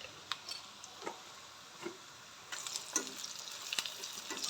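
Onions, ginger and turmeric being stirred in a pan for chicken curry, a faint low sizzle with sparse light scraping taps that grow busier and slightly louder toward the end.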